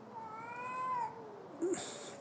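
Cats fighting: one lets out a drawn-out, wavering yowl, then a short low growl and a sharp hiss, close and fairly loud, with no talking.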